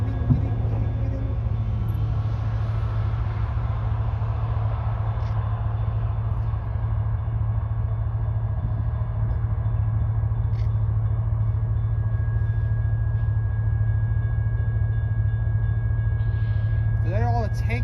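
CN freight train tank cars roll past during switching at Pembine, a steady, heavy low rumble that holds unbroken from start to finish at close range.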